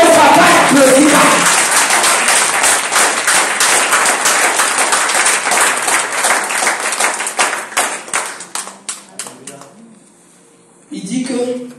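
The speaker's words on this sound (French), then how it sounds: "Si tu crois, applaudis." Church congregation at a Sunday service applauding together, dense clapping that thins into scattered claps and fades to near silence before a voice resumes.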